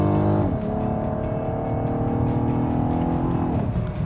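A 2015 Cadillac ATS Coupe engine revs loudly and steadily up close, its tone shifting as the driver downshifts from third to second gear, with a rising pitch near the end.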